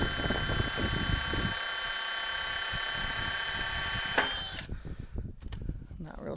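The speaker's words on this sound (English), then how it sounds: "All I gotta do is drill it." A power drill whines steadily for several seconds while boring a hole in a metal gate frame, loud and close, then cuts off abruptly, followed by quieter handling noises.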